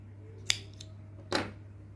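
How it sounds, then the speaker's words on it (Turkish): Scissors snip through yarn in a Turkish crochet session making a lif (scrubber) design, with a sharp click near the start and a louder cut a moment later, close and otherwise quiet over a low hum. "Düğüm atarak aralardan geçiriyorum ve ipimi kesiyorum."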